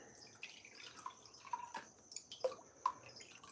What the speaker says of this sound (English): I put 2/3 cup of water